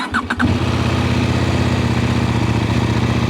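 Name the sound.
motorcycle engine starting with stock exhaust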